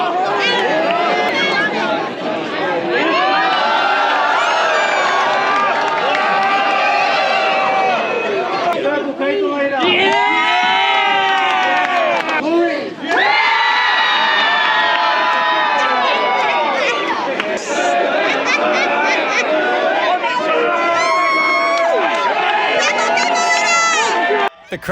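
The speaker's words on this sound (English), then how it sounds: "The crowd goes wild over the toad races" A crowd cheers and shouts wildly at toad races, children's voices among them, loud and sustained with chatter throughout.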